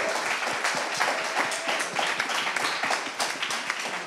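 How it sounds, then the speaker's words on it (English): A conference audience at a wellbeing culture forum in Venice gives a speaker a steady round of applause, dense overlapping clapping that holds at an even level throughout, fairly close and loud. "Big round of applause for Sonia."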